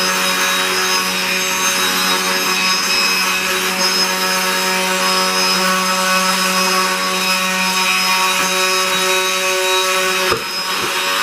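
Brushless electric motor of a Losi Promoto-MX RC dirt bike spinning at tens of thousands of RPM, a steady high-pitched whine with layered tonal harmonics, loud and close, running continuously with a brief dip near the end.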